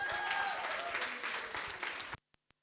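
A seminar audience at a women in business event applauds, a full, even wash of many hands clapping that stops abruptly, leaving a few isolated single claps in the silence after.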